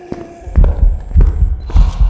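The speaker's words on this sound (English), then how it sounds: "Raichus are the only ghosts that will give the heartbeat sound that's like super bass boosted." A deep, heavily bass-boosted ghost heartbeat from the video game Phasmophobia thumps in loud, close paired beats, repeating three or four times in a steady rhythm with no talking.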